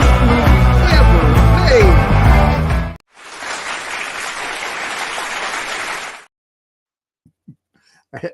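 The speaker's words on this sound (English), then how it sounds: "I have to solicit my own audience applause" Audience applause from a crowd, a dense wash of clapping lasting about three seconds after music, followed by a quieter burst, then silence with a few small sounds.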